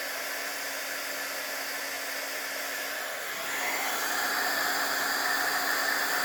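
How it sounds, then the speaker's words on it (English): A craft heat tool blowing hot air to melt embossing powder, a steady close whooshing hiss that swells a little louder partway through and then stays even to the end. "I'm going to grab my heat tool and emboss this"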